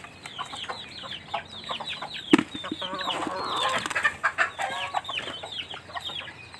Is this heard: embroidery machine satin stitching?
no